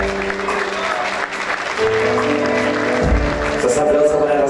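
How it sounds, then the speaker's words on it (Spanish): An audience applauds a woman, Rocío Pereira, at a youth event, the clapping running steadily throughout while an announcer's voice and background music carry over it. "Rocío Pereira con un fuerte aplauso."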